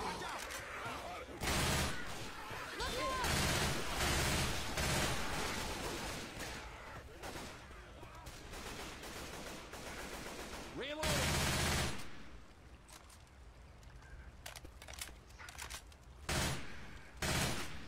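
Rapid gunfire in a fast-paced video game, with bursts of automatic fire and loud shots repeating over many seconds, while players talk over the action.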